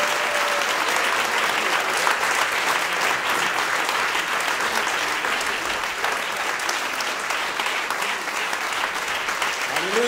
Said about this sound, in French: Est-ce qu'on pourrait se lever, s'il vous plaît, et applaudir et accueillir chaleureusement Brother Youn?